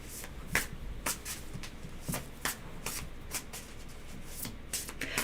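Tarot cards are shuffled in a quiet room, giving a series of crisp riffling bursts at irregular intervals, close and fairly soft, with no talk.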